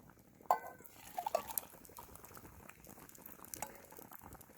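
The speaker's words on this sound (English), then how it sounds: "Get our hot water for our tea." Water boils in a pot for tea at an overnight riverside camp, a faint bubbling hiss with a few sharp metallic clinks of pot and utensils early on.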